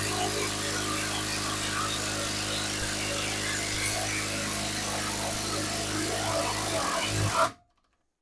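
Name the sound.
Grosser GID 230N cordless impact driver unscrewing 40 cm screw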